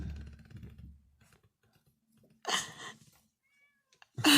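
A cat meowing inside a car, two sharp, loud meows with a low rumble and faint clicks between them.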